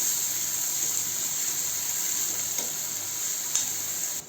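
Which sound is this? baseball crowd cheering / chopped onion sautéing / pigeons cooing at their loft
chopped onion sautéing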